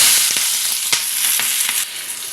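Onion and green chili pieces crackle loudly in hot oil, a dense close sizzle broken by several sharp stirring scrapes.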